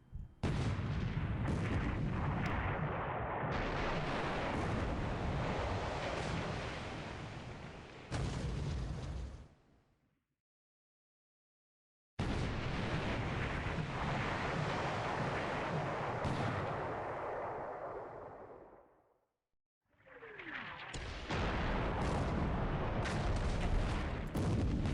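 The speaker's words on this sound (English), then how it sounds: "That's the second ammo explosion on the Hosho." Ammunition explodes aboard an aircraft carrier in the War in the Pacific strategy game: loud, booming blasts with rumbling fire, broken by two short silent gaps, and no talking.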